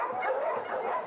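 Several shelter dogs yipping and barking together on an afternoon refuge walk, a dense, continuous clamour of close, moderately loud canine voices with no gaps and no talk.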